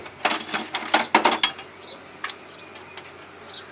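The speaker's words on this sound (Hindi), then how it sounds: "इसके बाद फिर टाइट करूँगा मैं।" Metallic clicks and ratcheting of a wrench tightening nuts on a cold-start diesel engine during liner fitting, a burst of close, sharp clatters followed by a few sparser knocks, no talking.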